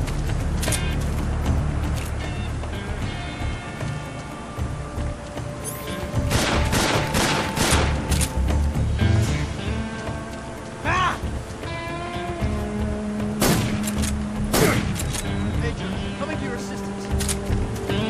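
Rapid gunfire bursts and scattered shots crackle through a jungle firefight in Metal Gear Solid 3, with steady rain-like background noise and voices talking over parts of it.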